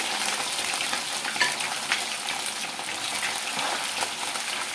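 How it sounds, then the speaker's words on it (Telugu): Mutton pieces frying in hot oil for a pickle give a steady, fairly loud sizzle with crackling bursts, close and continuous with no talk. "జాగ్రత్త అండి ఆయిల్ దగ్గర ఉన్నప్పుడు ఇలా చక్కగా ఈ మటన్ అంతటిని కూడా వేసేసుకుందాము"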